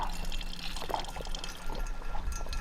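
Lake water squirts and trickles out of a squeezed bottle filter, a close, wet dribbling stream with small splashes and bubbling, no talk over it.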